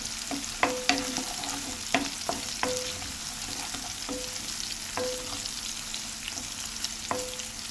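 Food frying in a pan, stirred with repeated scraping clinks of a utensil against the pan over a constant soft sizzle, close and alone with no voices.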